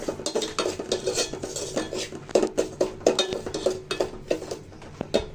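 Cardamom, cinnamon and bay leaves fry in ghee with semolina in a pan, a spoon scraping and clinking against the metal in a busy, irregular rhythm, close and fairly loud, with a faint sizzle underneath.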